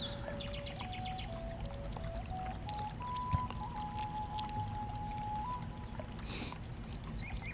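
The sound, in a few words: flowing water outdoors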